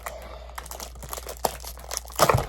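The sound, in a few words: crinkling plastic wrapping being removed from a Moyu WRM 2021 cube box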